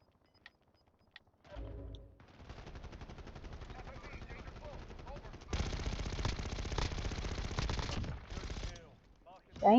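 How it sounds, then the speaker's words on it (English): Machine-gun fire in a video game: rapid automatic bursts rattle from about a third of the way in, growing louder and denser in a sustained middle stretch before breaking off, followed by a brief sharp sound at the end. "Damn, a lot of gunfire."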